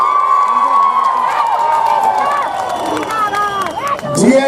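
Crowd at a Gorkha political rally in Lebong Gorkha Stadium, Darjeeling, cheering and shouting in a loud, continuous roar, with scattered clapping and a swell near the end.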